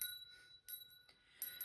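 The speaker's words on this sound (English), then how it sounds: "Ring my bell here." A small hand bell rings out in three short, bright bursts with quiet gaps between, each strike leaving a clear sustained tone that fades slowly, close and fairly soft.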